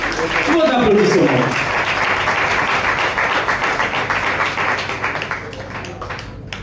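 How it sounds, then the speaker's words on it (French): Audience applause at a café poetry slam, a dense, steady wash of clapping that fills the room, with a host's voice briefly over it at the start before the clapping slowly thins out. "Mesdames et messieurs, on applaudit très très fort."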